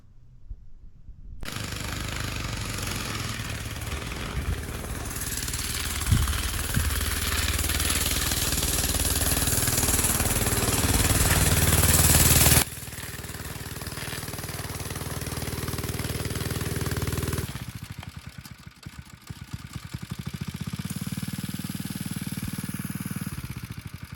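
Small engine on a homemade snow ski bike, underpowered, runs steadily through a test ride, loud and close, with a sharp drop in level midway and a lower rumbling idle near the end.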